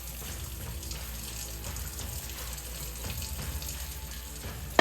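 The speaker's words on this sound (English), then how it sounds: "Then cover the peanuts with some fresh water." Fresh water pours steadily into a crock pot holding peanuts and brown sugar, making a continuous close splashing rush that runs unbroken for several seconds.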